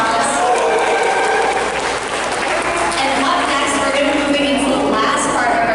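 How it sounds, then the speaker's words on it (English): Applause rolls through the audience at an aquarium sea lion show in Niagara, a loud, sustained clapping crowd with voices mixed in across the whole stretch. "We can give her a nice big round of applause."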